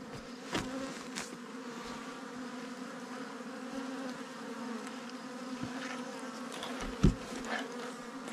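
A steady, faint buzz of bees swarming around a hive at a mountain pasture village, continuous throughout with a few louder passes close by.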